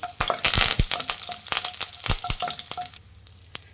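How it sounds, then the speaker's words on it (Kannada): Curry leaves and a dried red chilli crackle and spit in hot oil for a chitranna tempering, a dense burst of sharp pops and sizzle that thins out and quiets toward the end. "ಕರಿಬೇವಿನ ಸೊಪ್ಪು ಹಾಕ್ಕೊಳ್ಳಿ. ಒಂದು ಒಣಮೆಣಸಿನ್ಕಾಯಿ ಹಾಕ್ಕೊಳ್ಳಿ. ಫ್ರೆಂಡ್ಸ್, ಫ್ರೈ ಮಾಡಿ."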